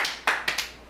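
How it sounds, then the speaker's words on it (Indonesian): Worshippers at a church service give a few quick, sharp claps, three or four distinct hits heard close and alone, then silence. "Amin, tepuk tangan."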